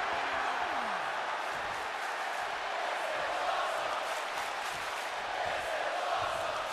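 A sold-out arena crowd in the WWE 2K24 wrestling video game, a continuous, fairly faint roar of cheering with scattered whoops that holds at a steady level throughout.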